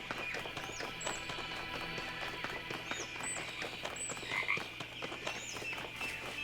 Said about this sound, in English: You frogs, you...